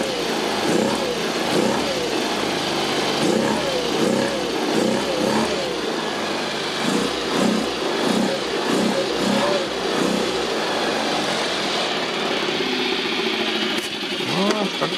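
Engine of a Kymco Super8 4T scooter with carburetor trouble revving in short repeated bursts, a buzzing mid-pitched note rising and falling close by, then settling toward a low idle.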